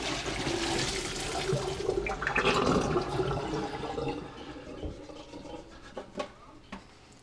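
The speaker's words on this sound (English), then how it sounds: "Dump the berries into the strainer." Water drains and splashes through a sink strainer full of freshly rinsed bullberries, a steady rushing pour that tapers off into a few scattered drips and rattles, close and fairly loud.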